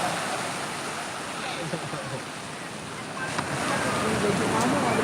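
Sea waves surge and wash along the shore at Anyer beach, a steady broadband rush with gusts of wind noise, building slightly louder toward the end, with people talking faintly nearby.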